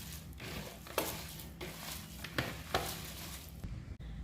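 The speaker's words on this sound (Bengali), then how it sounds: "জল দিয়ে ভালো করে মেখে নিচ্ছি হাত দিয়ে এইভাবে চেপে চেপে আমি মেখে নিচ্ছি" Mustard flowers kneaded and pressed by hand with a little water, giving a close, wet squelching and rustling with a few soft slaps, continuous and without speech.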